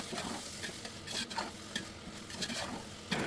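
Chicken pulao with salt and white pepper is stirred in a pot, giving soft scraping, shuffling strokes over a faint sizzle, with no voices.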